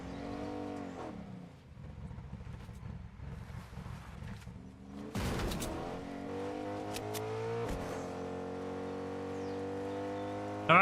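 Truck engine in Fortnite, a steady mid-loud motor drone with shifting tones as the vehicle drives, rising with a revving surge partway through and holding to the end, with no talking.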